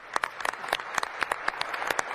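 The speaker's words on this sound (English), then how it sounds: "Everybody's clapping." Crowd clapping heard from a played video, a short run of scattered hand claps over a soft wash of applause, fairly faint and without speech.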